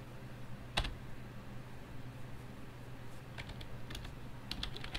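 Keys tapped on a computer keyboard, one sharp click early on, then a scattered run of soft keystrokes near the end over a low steady hum.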